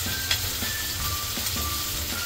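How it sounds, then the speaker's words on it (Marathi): Stuffed mackerel (bangda) with green masala frying in a pan over a medium-low flame, a close, steady sizzle with light crackles throughout and no talking. "मीडियम टू लो फ्लेमवर बांगडे दोन्ही बाजूने छान फ्राय करून घ्यायचे आहेत।"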